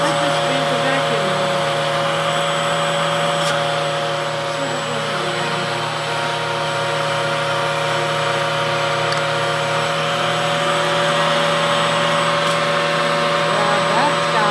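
A Hoover vacuum cleaner runs continuously with strong suction, producing a loud, steady motor hum and airflow roar, close and unbroken throughout.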